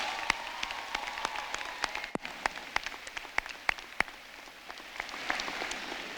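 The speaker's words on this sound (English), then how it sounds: "Please give these people one last round of applause." A scattered round of applause at a 2019 high school commencement ceremony, individual sharp claps standing out distinctly over a thin background of clapping, fairly quiet and sparse rather than a full roar.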